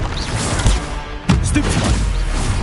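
A Bombarda spell blast in Hogwarts Legacy, a sudden explosive crash with a whooshing burst that rings out over ongoing game sounds, plus a smaller impact earlier and continuous background rumble.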